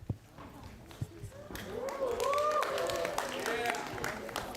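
Students in a university astronomy lecture hall cheer and clap together, a broad crowd noise rising after a quiet start and staying loud to the end, with voices mixed into the din.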